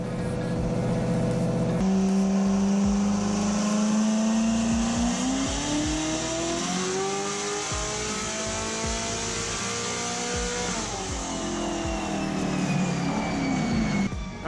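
A car with a TH400 automatic transmission is run hard on a chassis dyno, its engine revving up through a long, loud, rising pull, easing briefly, then climbing again before cutting off, with no talking.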